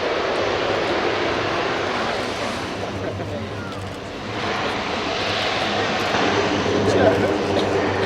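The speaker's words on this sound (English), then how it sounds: "Going into reverse on the 4" An RCAF CC-130J Super Hercules with four AE2100 turboprop engines goes into reverse thrust after landing at an air show, giving a loud, steady propeller roar with a low drone that swells and eases and then builds again.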